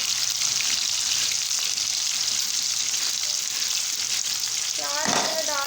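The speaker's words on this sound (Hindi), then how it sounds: "अब हम इसमें प्याज डालेंगे।" Chopped onions sizzle and crackle steadily in hot oil in a pan, a continuous near frying hiss throughout, with a brief stirring clatter near the end.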